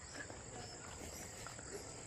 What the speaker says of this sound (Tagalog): Maririnig mo lang yung mga kuliglig.